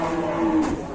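A cow lets out a single drawn-out moo, close and loud, over a background of farm-market bustle.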